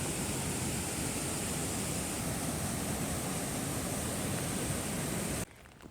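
Steady broadband rush of creek water flowing beside a campground trail near San Isabel Lake, Colorado, continuous and close until it cuts out abruptly near the end.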